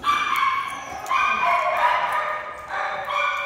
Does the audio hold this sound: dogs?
yes